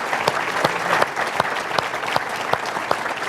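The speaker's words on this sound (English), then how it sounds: "How about a big round of applause" Audience at a business breakfast applauds with a round of clapping, individual sharp claps standing out from a moderate crowd in a room.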